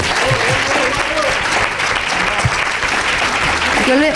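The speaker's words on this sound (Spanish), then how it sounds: "un aplauso, por favor" An audience applauds steadily at a live Aragón Radio programme-schedule presentation, a dense, loud wash of clapping that runs throughout, with a voice faintly heard beneath it.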